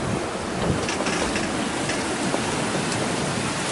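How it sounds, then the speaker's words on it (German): Strong 25 to 30 knot wind and huge waves roar around a sailing yacht crossing the Atlantic, a dense, constant rush of air and water, loud and unbroken, with no voices. "Wir haben immer noch zwischen 25 und 30 Knoten Wind. Mittlerweile sind da riesige Wellen."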